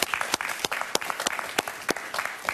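A studio audience at a television talk show applauds a guest, with dense, lively clapping that carries on steadily and fairly close, with no talking over it.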